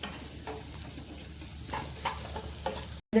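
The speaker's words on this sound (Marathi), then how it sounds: "टॅमॅटो पण आपण टाकून घेऊया आणि कोथिंबीरच्या दांड्या हे आता व्यवस्थित आपण थोडंसं फ्राय करायचं" Tomatoes and coriander stems frying in homemade masala for a dhaba-style egg curry, giving a soft, steady sizzle with light stirring scrapes, fairly quiet, no voices, cut off briefly near the end.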